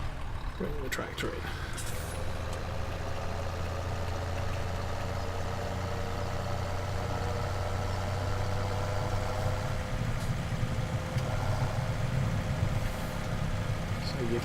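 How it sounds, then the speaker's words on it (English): A tractor engine idles in the video game Farming Simulator 17, a steady low droning hum that holds at an even level throughout, with someone talking over it. "Bring the tractor in."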